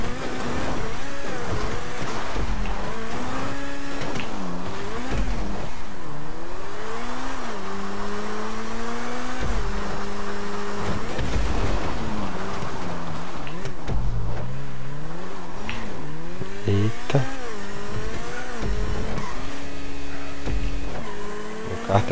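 A race car's engine in a GTA V online race on the Big Spiral track revs and winds up and down again and again, loud and constant, with gear shifts and brief tire noise and no talk.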